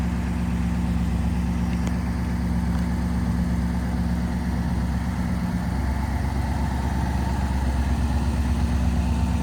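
A restored 1957 Ford Fairlane 2-door hardtop with a 312 Thunderbird V8 idles at a steady, even rumble nearby, running on without revving and with no voices over it.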